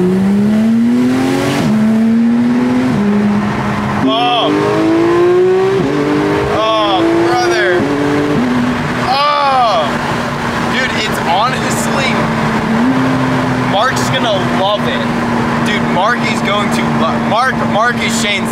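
Porsche 991 GT3 flat-six with a GMG exhaust, revved hard repeatedly: loud rising and falling howls with sharp crackles, then a sustained high idle, with people talking over it.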